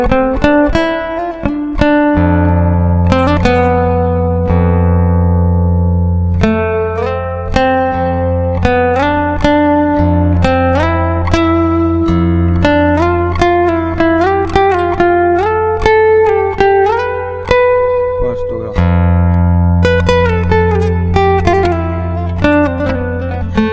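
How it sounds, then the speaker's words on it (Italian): Instrument plays the Lydian scale with its raised fourth degree, a quick run of clear, distinct notes rising and falling over a steady low sustained tone, loud and close. "Scala Lidia, eccola il quarto grado innalzato."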